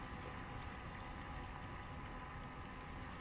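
Chinese catamaran bait boat with twin motors running in third gear on water, a faint steady whirring hum with light water wash throughout, distant and continuous.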